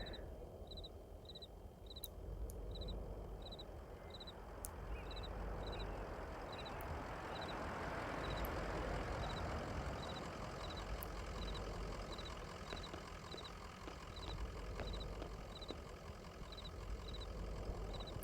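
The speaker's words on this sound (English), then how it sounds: "There's a dog and a truck." A truck engine idles at a gas station in the video game Kentucky Route Zero, a steady low rumble throughout, with a repeating faint high chirping pattern and occasional soft ticks over it.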